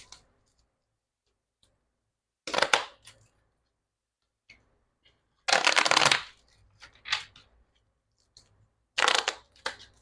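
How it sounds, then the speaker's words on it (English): Playing cards being shuffled in three brisk bursts, each a crisp riffle lasting about a second, separated by quiet pauses with faint ticks and handling noises in a tarot-style reading setting. "Now let's pull some playing cards."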